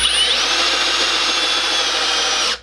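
Power driver whirring steadily as it sinks a pocket hole screw with a square bit, one continuous close, loud run that cuts off sharply at the end.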